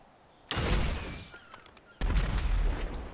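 Rocket launcher in Fortnite Creative firing twice, each a sharp loud blast with a decaying rumble, about one and a half seconds apart.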